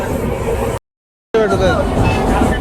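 A local train running on a ride, a steady broadband rumble broken by a short silent gap, with people talking over it.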